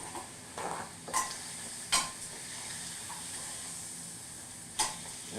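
Food sizzling on a grill, a steady close hiss with a few sharp scraping or clinking accents.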